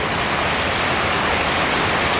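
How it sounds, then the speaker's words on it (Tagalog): Steady, heavy rain pours down continuously at night in Pampanga, Philippines, a dense even hiss of drops hitting surfaces, close and loud with no voices. "Ayan po ang ulan."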